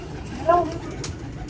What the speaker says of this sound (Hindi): ये वेटलेस कबूतर हैं, प्रेल हैं